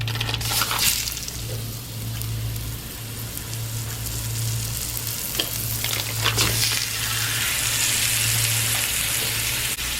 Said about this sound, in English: Now let's cook up the ground beef